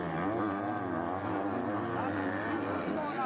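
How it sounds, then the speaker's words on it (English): A Yamaha MX2 motocross bike races at the MXGP of Sardegna 2022, its engine giving a loud, continuous high-revving buzz that holds steady and close throughout. "Vialle will hear the Yamaha engine behind him once again"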